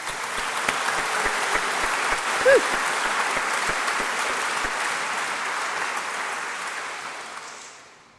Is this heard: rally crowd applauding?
yes